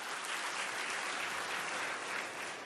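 Audience at the Cuddalore book fair bursts into steady, dense applause, many hands clapping together at full strength throughout with no talking over it.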